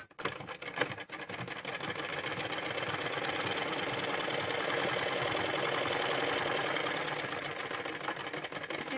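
A sewing machine stitches jumpsuit seams in a continuous rapid mechanical whir. A few clicks come as it starts, then it holds a steady close, loud run before easing slightly near the end. No one speaks.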